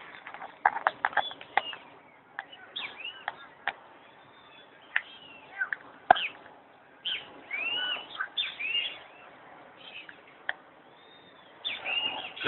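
A small flock of cowbirds sings outdoors with a busy run of chirps, whistles and sliding calls, some close and some farther off, with brief pauses between bursts.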